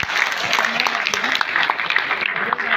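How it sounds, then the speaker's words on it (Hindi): An audience claps to welcome a school principal arriving at a debate event, a moderately loud, continuous patter of applause with a hint of voices mixed underneath. "एक बार जोरदार तालियों से सर का इस्तकबाल किया जाए"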